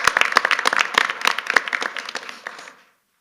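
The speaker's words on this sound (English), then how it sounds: "join me in a round of applause for Richard Corvo" A short round of applause from a modest group at a Michigan Civil Rights Commission meeting, with distinct, closely miked individual claps pattering for under three seconds before stopping abruptly into silence.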